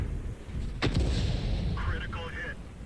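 A tank cannon round fires in the video game Ace Tanker, one sharp, heavy boom that decays into a rumbling tail, set over a constant low engine drone with faint game effects afterward.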